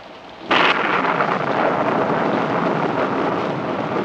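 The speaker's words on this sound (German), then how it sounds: "Ich habe Angst vor dem Gewitter." Thunderstorm in a 1946 film scene: a loud thunder crack breaks in after a quiet moment and rolls into a sustained heavy roar of rain and rumble, with no talking.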